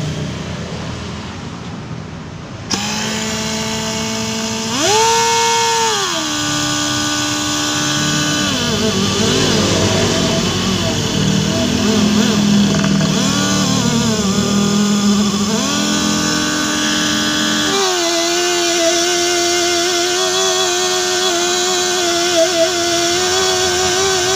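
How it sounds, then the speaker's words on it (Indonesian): Pneumatic air grinder buffing the tread of a leaking tubeless tire before a roadside patch repair, a loud close whine that revs up and down in pitch over a steady grinding roar. "saya menggunakan gerinda angin terserah kalian mau pakai gerinda angin atau gerinda listrik"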